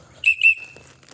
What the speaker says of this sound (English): Whistle somebody made me.